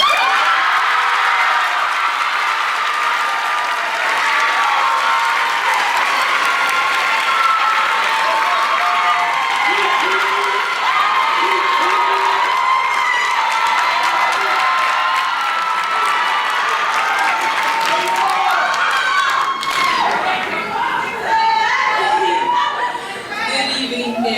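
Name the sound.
audience applauding and cheering for valedictorian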